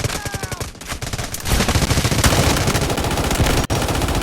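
Gunfire in the video game Delta Force, rapid bursts of automatic rifle shots, loud and close, continuing in dense volleys with a brief break near the end.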